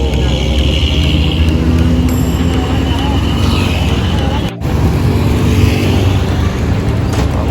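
Voyager Antar Jaya bus driving past, a loud continuous engine rumble and road roar close by with a brief dropout midway, a person talking over it.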